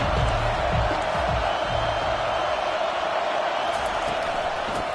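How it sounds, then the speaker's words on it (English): A stadium crowd in a college football video game sends up a steady, dense roar for the whole stretch, loud and broad with no clear peaks. Faint low thumps come through underneath. "This crowd trying to make life miserable for this offense."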